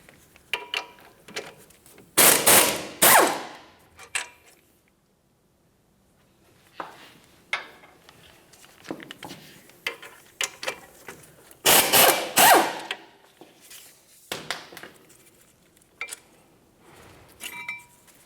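Bolts holding the 17mm caliper bracket to the steering knuckle on a 2009-2010 Pontiac Vibe are being removed, with two loud bursts of power-tool whirring among scattered metallic clinks and tool handling.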